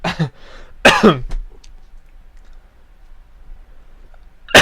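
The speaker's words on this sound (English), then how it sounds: "Sorry for my coughing for some reason." Two harsh coughs sound close together at the start, then a quiet stretch before another cough begins right at the end.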